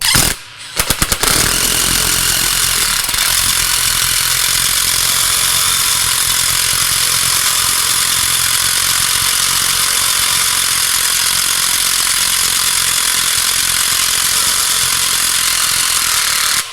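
A power drill drives a MoJack Pro jack to lift a zero-turn or lawn tractor mower, producing a loud, steady mechanical whir that holds for about fifteen seconds after a few brief stuttering starts.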